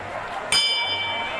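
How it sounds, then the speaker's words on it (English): A hand bell rung by a street performer at a renaissance faire escape show, one sharp bright strike that rings on with a sustained shimmering decay over crowd murmur. "every time I ring this bell"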